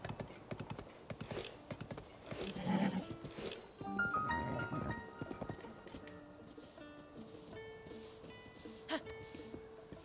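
Horse hooves clip-clopping in a Zelda video game, a steady run of hoofbeats with a brief neigh, blended with in-game music and effects.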